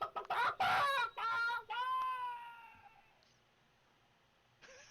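A voice imitates creature whistles, squawks and shrieks during a tabletop Dungeons & Dragons session, with several loud, shrill squawking bursts and a warbling whistle that fade out, followed by a brief noise near the end.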